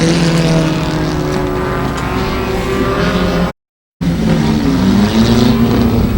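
Race car engine droning steadily on a parade lap after a short-track win by the No. 1 car, a loud continuous motor hum with shifting pitch, briefly cut out for a moment mid-clip.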